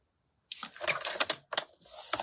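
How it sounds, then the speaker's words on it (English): Cardstock is scored by hand for card making: a short run of scraping, rubbing strokes with brief pauses between them, close and fairly quiet. "So I'm just going to score this"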